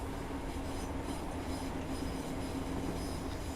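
A train runs steadily on the rails as it approaches a station, with a continuous rumble and rolling wheel noise and a faint sustained squeal throughout, heard from on board.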